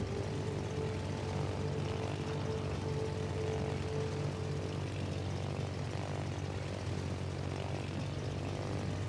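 A fighter plane launches from an aircraft carrier in the naval combat game World of Warships, a steady droning propeller engine roar with a low hum, continuous and moderately loud with no voices.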